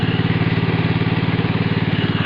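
Walk-behind tractor pulling a plough through very wet soil, its small engine running in a steady, close, throbbing drone with an even rapid pulse throughout.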